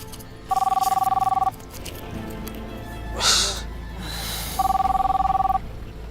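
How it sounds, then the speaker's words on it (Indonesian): A telephone rings at night: two distinct bursts of rapid electronic ringing, each about a second long and separated by a pause, with a brief noisy rustle between them and a quiet room background. "Siapa sih yang telepon malam-malam gini?"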